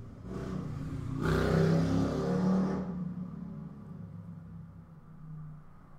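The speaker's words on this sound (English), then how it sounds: "it's about to be a loud car passing, I can hear it." A car roars past nearby, its broadband rush swelling loudly and then fading away, leaving a low rumble behind.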